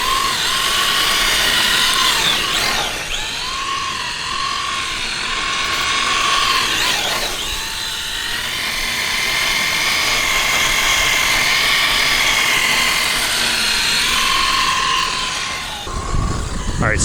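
Traxxas Nissan 240SX RC drift car driving, a continuous high electric motor whine rising and falling as it drifts through corners, with brief bursts of speech.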